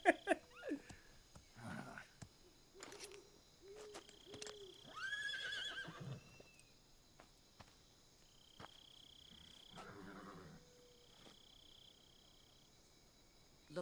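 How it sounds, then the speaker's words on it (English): A horse neighs and whinnies in the Metal Gear Solid 3 jungle, a high quavering call in the middle of the clip, with croaking frogs, chirping insects and scattered soft thuds around it. "it's just a horse"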